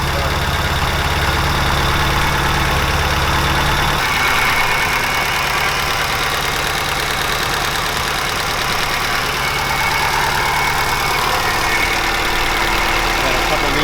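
A built Subaru STi with over 800 horsepower idles steadily at its first startup, a loud continuous engine rumble with a deep low drone that shifts slightly partway through, with faint voices in the background.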